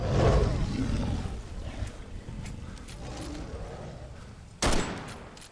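Flare gun fired in the Bigfoot video game, a single sharp burst near the end following a stretch of rumbling in-game ambience.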